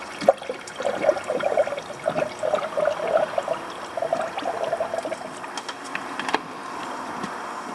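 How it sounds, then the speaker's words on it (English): Water pours into the coolant overflow reservoir of a 2005 Toyota Tacoma 2.7 L, a close, bubbling, gurgling stream with sloshing that runs unevenly for several seconds before tapering into a quieter trickle. "Overflow reservoir filling up."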